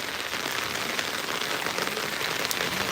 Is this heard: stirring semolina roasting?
no